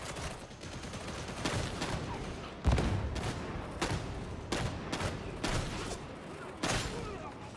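Shotgun blasts from Dreg shotgunner enemies in the video game Warhammer 40,000: Darktide, a string of loud, sharp reports at irregular intervals over a busy combat din, with one heavier boom standing out partway through.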